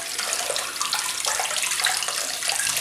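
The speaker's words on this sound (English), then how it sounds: "So, I'm going to wet the brush." Steady running tap water pours onto a black-hair synthetic shaving brush, a continuous close splashing hiss with no pauses or voices.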